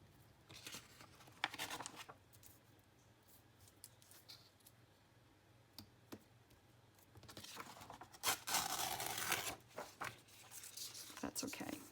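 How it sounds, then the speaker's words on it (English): Paper bag being torn for a handmade folio journal: quiet rustles and scratches first, then a longer, louder rasping tear in bursts near the end, with faint talk in the room. "So let's just tear a little bit here."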